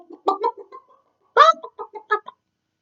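Voices imitate chicken clucking in short, choppy bursts, two separate runs of cluck-like syllables with a brief pause between them.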